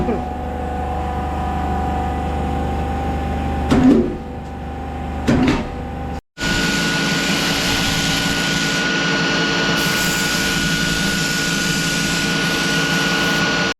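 A small notching machine runs with a steady loud mechanical hum and whine. Two brief heavy clunks come before a short silent gap, and the drone then resumes, louder, and holds steady to the end.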